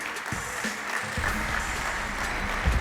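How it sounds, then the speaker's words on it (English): A Notre Dame football banquet audience applauds a player, giving a steady wash of clapping that holds at moderate level for a few seconds in a large room. "Please give a round of applause for Cole Luke."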